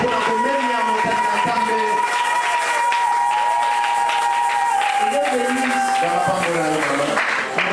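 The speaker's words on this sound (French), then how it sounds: "Est-ce qu'on peut acclamer?" Audience at a church seminar breaks into applause that holds steady throughout, with music and voices underneath.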